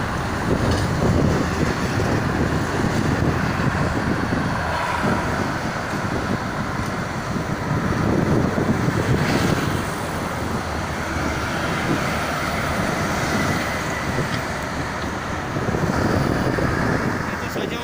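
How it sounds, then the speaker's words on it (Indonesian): Strong wind buffeting the microphone beside the Jakarta–Cikampek toll road near Karawang, a steady loud rumbling roar with passing traffic mixed in, continuous throughout with slight gusty swells. "Anginnya kencang banget."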